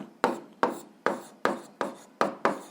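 Handwriting on paper during an 8th-grade algebra exercise, six quick scratchy pen strokes in an even rhythm, close and clear, with no talk over them.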